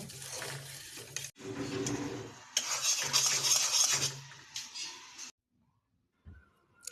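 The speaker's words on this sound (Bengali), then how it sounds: "একটু জর্দা রং দিয়ে দিলাম যাতে কালারটা সুন্দর আসে কিছুক্ষণ নেড়ে নেব" A spoon scrapes and stirs caramel colored with yellow food coloring in a pan, with uneven bursts of clinking and soft bubbling that end in near silence and a few faint knocks.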